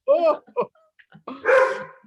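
Several pet dogs barking indoors in short, sharp bursts, with a higher yip and a louder cluster of barks near the end, close by and mixed with a voice.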